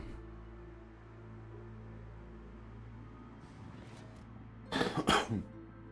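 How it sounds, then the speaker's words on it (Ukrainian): A single short cough near the microphone, a sharp double burst over a steady low electronic hum and faint background noise, during a World of Warships gaming session. "Кашлянув."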